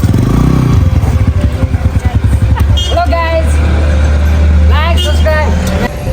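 Several motorcycles idle and rev close by as six riders prepare to set off on three bikes for an adventure ride in Kavre, Nepal. The engine rumble is loud and continuous, and voices talk and shout over it.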